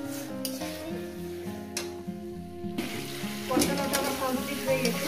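Spices and salt sautéing in a hot pan, a soft steady sizzle with occasional stirring scrapes, fairly quiet and close, with a tonal background hum running beneath.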